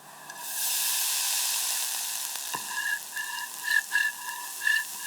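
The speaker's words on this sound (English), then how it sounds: "adding a new aromatic dimension to the shallots sizzling in the warm fat" Shallots, garlic and coarsely crushed peppercorns sizzle in warm fat in a pan, a steady bright hiss that rises quickly and holds, with faint crackles and small pops near the end, close and without talk.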